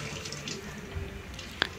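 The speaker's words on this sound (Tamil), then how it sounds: "இப்போ இதையும் வந்து நல்ல தண்ணியில் நல்லா வந்து கழுவிக்கலாம்" Pooja vessels are rinsed under a running kitchen tap, a steady close splash and gush of water with a brief sharp metallic clink near the end.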